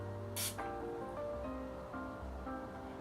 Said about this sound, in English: then spray like 2 times